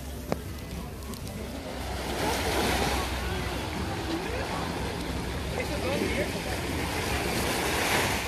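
Surf washing onto Sorrento beach on the Italian coast, a steady broadband wash of waves with wind buffeting the microphone, continuous and fairly close throughout.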